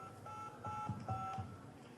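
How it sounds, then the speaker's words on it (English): A Radio Shack pocket tone dialer emits several steady dual-pitch touch-tone beeps in quick succession, clear and close in a quiet setting. "So this is a Radio Shack pocket tone dialer."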